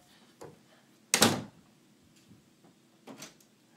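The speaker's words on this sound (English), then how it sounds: "Close door. Open door." Door closing and opening in the video game Five Nights at FatBears, a sharp loud slam in the middle, with quieter clicks and shuts before and after, over a faint low hum.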